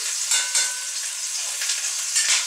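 Pieces of chicken browning in a pan for coq au vin give off a steady, close hiss of frying fat with small crackles and a few louder pops, and no voice is heard.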